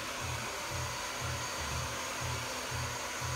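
Hair dryer set to low airflow and high heat, blowing steadily to smooth and set a hair bun, a continuous close whoosh with a faint pulsing rhythm throughout.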